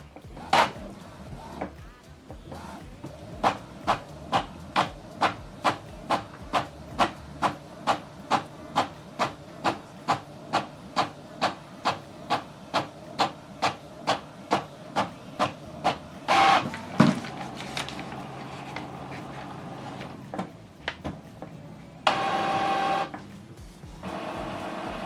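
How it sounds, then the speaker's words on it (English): A printer runs a double-sided job on its second, reversed page with a long run of evenly spaced mechanical clacks. Whirring paper-feed and rolling sounds follow, and a short burst comes near the end. "Preparing to print the second page."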